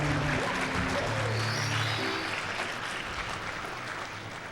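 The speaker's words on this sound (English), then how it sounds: "So let's get a round of applause for that." A round of applause at a live charity gaming event, a steady patter of clapping under a busy backdrop with faint tonal sounds, continuing throughout at moderate volume.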